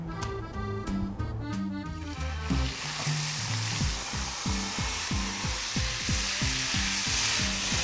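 Onions and peppers hit hot oil in the same pan used for steak, a loud, steady sizzle joined by rhythmic scraping strokes, with music playing at the start.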